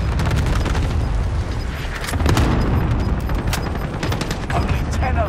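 Enemy cluster strike explosions in Call of Duty: Modern Warfare, a dense run of booming blasts and rapid gunfire that keeps the mix loud for the whole stretch, with players talking over it.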